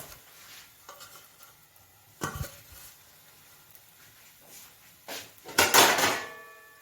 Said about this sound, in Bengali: এবার দিয়ে দেবো আমি এর ওপরে ঢাকা